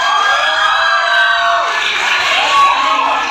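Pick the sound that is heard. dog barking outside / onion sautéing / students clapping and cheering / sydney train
students clapping and cheering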